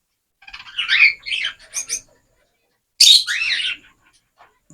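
A bird gives a few quick, high chirps, then a brief pause and a louder burst of calls, close and alone in silence.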